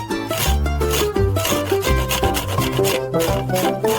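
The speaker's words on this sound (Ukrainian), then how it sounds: "Ну а зверху натирає сиром." Steady rhythmic rasping strokes of cheese being rubbed across a grater onto pizza dough, close and fairly loud with a tonal hum running underneath.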